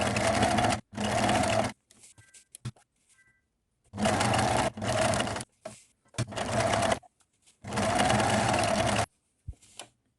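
A sewing machine stitches all the way around a pocket lining for a welt pocket, running in several loud bursts of rapid whirring separated by short pauses and light handling clicks.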